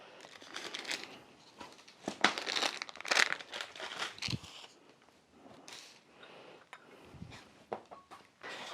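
Greaseproof paper crinkles and crackles close up in irregular bursts of sharp rustling, with a few louder crumples and quieter pauses between.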